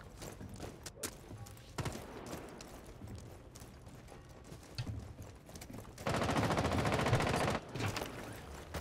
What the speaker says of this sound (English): I do hear some gunfire